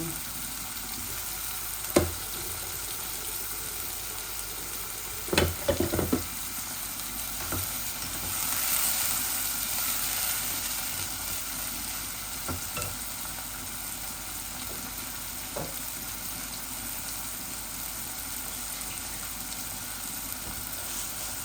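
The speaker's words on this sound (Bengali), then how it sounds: "পেঁয়াজগুলা ভাজা ভাজা হয়ে যাক, তো সব মরিচ মশলা দিলাম।" Onions fry with chili and spices in a hot pan, giving a steady close sizzle broken by a few sharp stirring clanks and scrapes.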